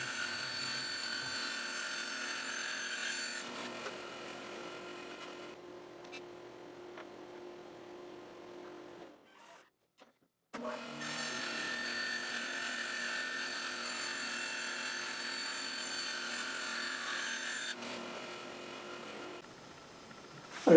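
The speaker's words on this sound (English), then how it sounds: "using the same procedures, I cut the 9 tigerwood tapered staves" A power saw cuts tapered tigerwood staves against a sacrificial fence, a steady whining motor drone that drops as each cut finishes and stops briefly, then spins back up for another long even pass.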